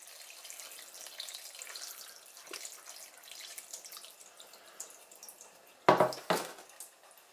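Running tap water hisses steadily in a sink, with a couple of louder splashes near the end as raw vegetables are rinsed under the stream.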